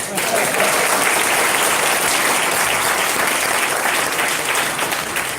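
A convention audience at an entrepreneur event breaks into sustained applause, a broad, even wash of many hands clapping that stays steady and moderately loud throughout.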